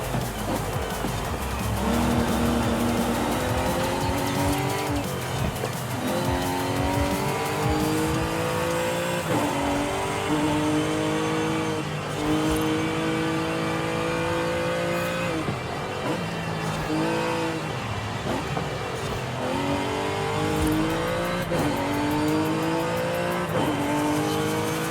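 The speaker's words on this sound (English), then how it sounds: "Sounds not dissimilar to what it sounds like when the V8 supercar coverage goes inside the car with the driver" Car engine heard from inside the cockpit in the racing game Forza Horizon 5, loud and continuous, revving up and dropping through repeated gear changes with intermittent tire squeal.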